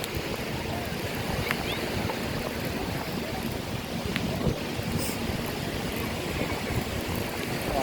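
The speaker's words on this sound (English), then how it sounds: "It's like the storm is outpacing me a little bit." A thunderstorm with rain at Fort Myers Beach, Florida: a dense, unbroken roar of rain and rumbling fills the scene at a steady, loud level, with no voices.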